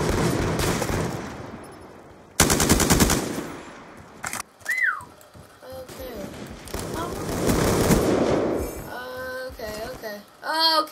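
Light machine gun fire in Call of Duty Black Ops 2 multiplayer, with loud sustained bursts of rapid automatic shots, brief gaps and other game effects, plus a whistling tone in between.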